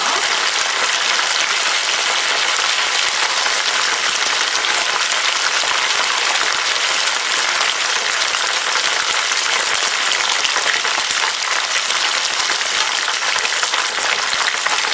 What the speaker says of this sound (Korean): 그럼 다시 넣어서 2차 튀김을 이제 해줄 거예요.